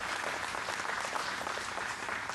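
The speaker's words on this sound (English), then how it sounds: "So let's give him an applause again." Audience applause for a county district attorney at a community leaders' gathering, a steady, dense wash of many hands clapping throughout, moderately distant, with no talk over it.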